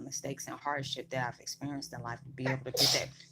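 A single sharp sneeze bursts out near the end, partly under a person speaking steadily throughout.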